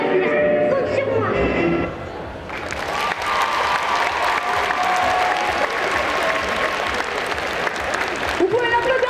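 At a cosplay contest at a geek festival in Bordeaux, voices and music come first. Then the audience breaks into sustained applause with a few cheers, thick crowd clapping that carries on to the end with some talk underneath.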